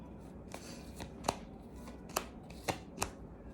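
A deck of tarot cards is shuffled by hand, soft riffling rustles punctuated by four or five sharp, crisp snaps of cards striking together, close and fairly quiet.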